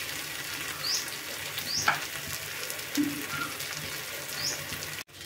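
Drumstick and coconut curry simmers uncovered in a pan in a village kitchen, a soft low sizzle and bubbling with a few faint clinks, quiet and close.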